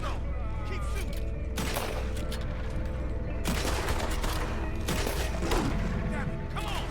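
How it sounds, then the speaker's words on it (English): Rapid bursts of gunfire from the video game Red Dead Redemption 2, dense overlapping shots and thuds filling the mix continuously and loudly over a game soundtrack, with voices heard beneath. "Keep shooting."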